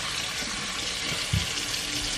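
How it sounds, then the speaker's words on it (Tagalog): Running tap water splashes steadily as a mango is rinsed under the faucet, a soft continuous gush with a brief louder splash near the end. "Hugasan ko lang tong mango, guys,"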